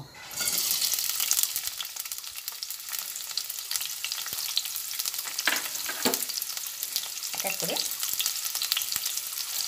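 Onion and garlic sizzle and crackle steadily in hot oil, with occasional scraping stirs; a voice briefly speaks early on.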